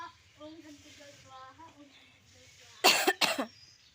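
Two loud, harsh coughs close to the mic near the end, following soft background chatter and a voice talking in a home setting.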